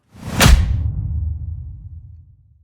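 A single cinematic hit: a sharp whooshing impact that fades into a low rumbling tail over about two seconds.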